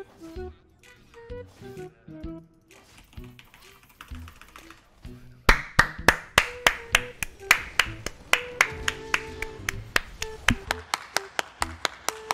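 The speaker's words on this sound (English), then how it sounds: "Clap, clap, guys. Give me a clap." A group claps hands in a steady rhythm, loud and close, starting partway through and running to the end after a stretch of talk and noise.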